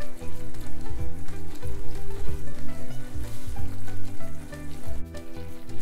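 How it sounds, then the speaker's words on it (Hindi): Mashed wheat bread halwa sizzles in ghee while being stirred continuously, with rhythmic scraping strokes of a spoon in a pan, close and loud throughout. "अब इस हलवे को लगातार चलाते हुए हम भूनेंगे"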